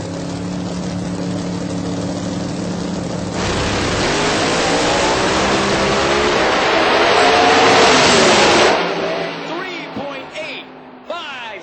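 Pro Boost drag race between a turbocharged car and a supercharged car: a loud engine roar builds and swells to a peak as the cars pass, then cuts out and fades, with an announcer speaking over it.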